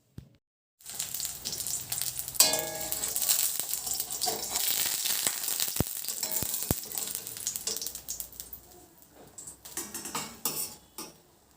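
A potato and cauliflower curry fries in a pan, giving a hissing sizzle with repeated sharp clinks and scrapes of a metal spoon and a few stirring bursts, then easing off toward the end.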